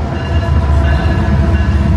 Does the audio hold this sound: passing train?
yes